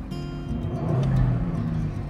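A 2022 Ford Explorer ST with a 3-liter engine revs while standing, giving a deep, steady rumble that swells in the middle and then settles, close and alone.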